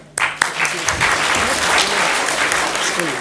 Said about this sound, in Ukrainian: вона таки е, достойна того, щоб ми її привітали оплесками